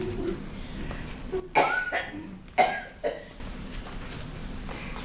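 Several short coughs come from a man in a noisy baseball bar, three sharp bursts spaced about a second apart over steady crowd murmur and room noise.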